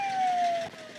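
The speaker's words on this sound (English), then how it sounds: "Shut your siren off." A police siren wailing with a steady falling tone, loud and close, cutting off briefly near the end over engine rumble.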